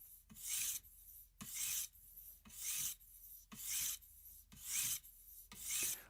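A knife blade is drawn across the stone of a guided sharpening system in regular rasping strokes, about one per second, close and clear with no voices.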